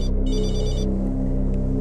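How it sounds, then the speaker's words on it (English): A mobile phone rings inside a parked car at night, its bright electronic ring tone repeating over a low steady engine-like rumble, close and clear, with no voices. "waking to the sound of the mobile phone ringing"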